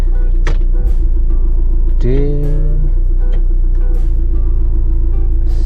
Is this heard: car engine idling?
yes